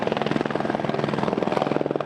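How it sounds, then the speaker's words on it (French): A water-bombing firefighting helicopter with a load of up to 4000 litres flies overhead, its rotor beating in a loud, fast, steady thumping rhythm over a constant engine roar. "L'intervention d'un hélicoptère bombardier d'eau prouve la précision de son largage"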